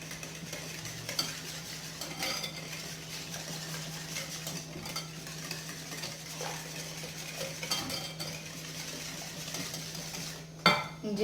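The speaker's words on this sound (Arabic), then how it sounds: "وغادي نخلط هاد العناصر مزيان" Instant coffee and water being stirred together for a cake batter, a soft, steady scraping and clinking of a utensil in a bowl, close and quiet, with a brief louder knock near the end.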